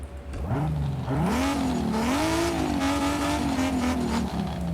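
A Nissan GTR R34 fitted with a stock 2JZ engine in Forza Horizon 5 revs hard through climbing, wavering engine tones, a loud sustained game engine note over several seconds with no talk.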